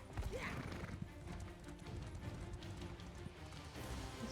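Horse hooves galloping at a steady rhythm in Elder Scrolls Online, faint and continuous, with a brief whinny near the start and some game ambience and a light voice underneath.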